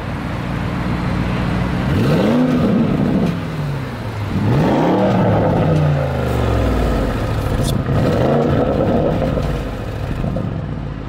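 A Porsche Cayenne Turbo engine revving hard three times, each burst rising sharply and falling back to a loud, rumbling idle, close and alone with no talk.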